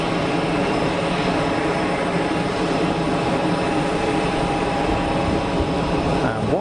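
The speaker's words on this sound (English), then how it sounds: "easyJet heading out to Lisbon." An easyJet airliner departs Geneva Airport for Lisbon, its broad jet engine roar steady and fairly loud throughout, with a slight swell near the end and no voices.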